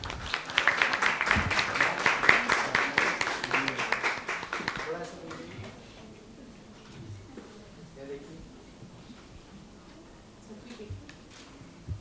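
An audience at an India summit session breaks into rhythmic clapping applause for several seconds, fading into quieter room sound and murmured voices.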